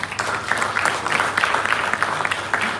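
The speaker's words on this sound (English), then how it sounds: "So a big round of applause to all of you today." Audience at an Islamic social finance summit in a Kuala Lumpur hotel gives a round of applause, close, loud and steady clapping with audible individual claps throughout.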